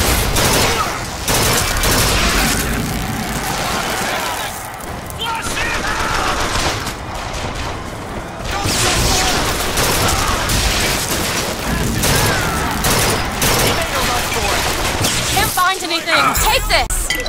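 Rapid gunfire from Bioshock Infinite gameplay, with bursts of automatic shots and booms that come in dense volleys nearly throughout, loud and close, with a player's voice talking over parts of it.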